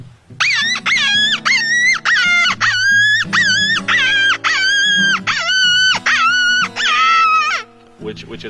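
A wolf howler call imitates a wolf pup in distress, with a rapid series of high, wavering whines and yelps in short bursts, loud and close.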